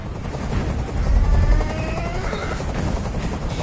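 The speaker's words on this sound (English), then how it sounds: "I can't stand that noise anymore. Tell that helicopter to get out of here." A helicopter in a PS4 video game drones with a steady, loud rotor thump and whine, swelling slightly midway, with faint booms and gunfire mixed in.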